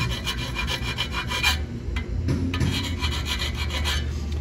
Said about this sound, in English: any spot that's sharp or rough, I'm just filing it down